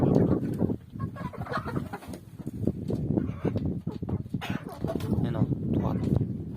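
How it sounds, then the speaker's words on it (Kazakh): A small mixed flock of young and older hens clucks in short, repeated calls close by, under and between a person talking over them. "Мінекей тауықтар."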